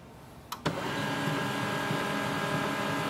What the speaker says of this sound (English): Now, your printer's lights are flashing and it will restart.